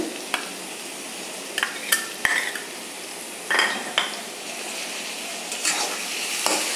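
Bottle gourd fries in a pan with onion-garlic paste, a steady soft sizzle running underneath while a spoon scrapes and knocks against the pan in scattered stirring strokes.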